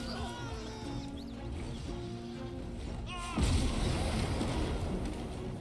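Wooden bridge collapsing in Baldur's Gate 3, a sudden loud crash and rumbling breakup that follows tonal game sounds and brief voice.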